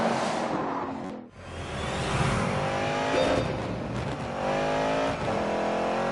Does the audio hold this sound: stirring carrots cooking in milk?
no